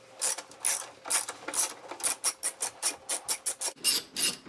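A ratchet wrench clicks in quick, rhythmic bursts while loosening the 10 mm nuts on a car battery hold-down bracket during a battery replacement, close and clear with no talk.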